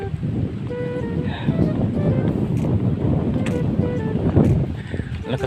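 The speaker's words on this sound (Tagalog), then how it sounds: "Lakas ng hangin." Strong wind buffets the microphone with a steady low roar, while voices talk intermittently over it.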